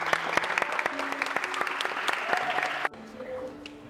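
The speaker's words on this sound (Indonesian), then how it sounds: "Kita berikan tepuk tangan." Classroom applause greets a new child invited to the front at a Catholic faith-formation gathering, a lively clatter of many hands that stops abruptly near the end, leaving a quieter room with faint voices.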